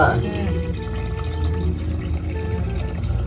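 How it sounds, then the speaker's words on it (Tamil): Water is poured onto rice in a pot while cooking chicken biryani. It makes a continuous close splashing pour, layered with a steady harmonic background and possible voices, throughout the short stretch. "ரைஸ் போட்டல நான் தண்ணியை மட்டும் ஊற்றுறேன்."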